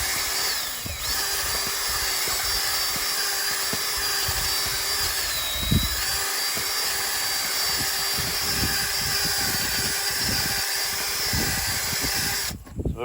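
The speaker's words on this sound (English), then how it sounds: "I'm going to ream this hole a little bit." A power drill reams out a hole in a fence gate fitting, a continuous high motor whine running throughout, with irregular low knocks and clunks from the tool working the metal.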